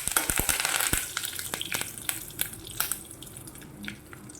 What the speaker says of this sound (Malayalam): അതിലേക്ക് തന്നെ എടുത്തേക്കുന്ന കരിവേപ്പിലയും കൂടെ ചേർത്ത് കൊടുക്കാം.